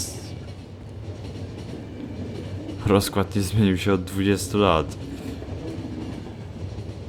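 A train rumbles steadily in The Final Station video game, with a continuous low mechanical drone under someone speaking for a couple of seconds in the middle.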